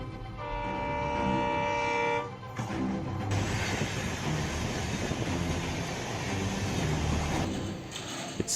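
A train sounds a tonal horn or bell for a couple of seconds, then a loud, rumbling, clattering passage of railcars carries on steadily up close.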